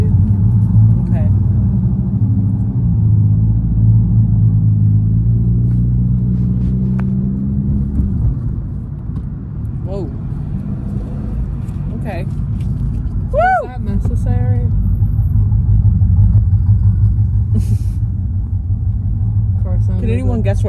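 An SUV's engine rumbling while driving, a loud, deep, continuous low drone heard from inside the cabin, with people talking over it throughout.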